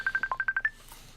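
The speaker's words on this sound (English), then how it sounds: "my phone's ringing." A phone rings with a fast series of seven short electronic beeps, evenly pulsed and fairly close, then stops, during a poker cash game.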